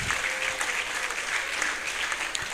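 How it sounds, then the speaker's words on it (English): Standing ovation for the chairperson at a church-hosted consultation gathering, dense continuous applause from a large audience, loud and steady across the brief stretch. "with a standing ovation and a round of applause, let us officially welcome our chairperson"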